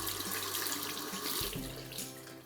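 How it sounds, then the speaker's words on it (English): Tap water runs steadily and loudly while a makeup sponge, a beauty blender, is rinsed and squeezed under the faucet at a sink, close by with no talking. "And then rinse it under the water and squeeze it even further."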